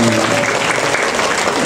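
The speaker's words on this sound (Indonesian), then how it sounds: "Mana tepuk tangannya?" Audience applause at an Islamic sermon, a short dense burst of clapping from a gathered crowd, loud and continuous for the whole moment.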